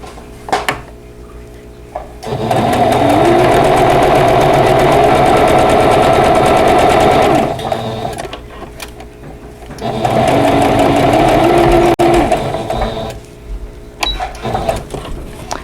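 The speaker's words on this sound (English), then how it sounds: "I'm going to sew from this side to that side." A sewing machine stitches a quilt block seam in two long, steady runs of rapid mechanical whirring and needle clatter, each lasting several seconds, separated by a pause filled with quiet handling sounds.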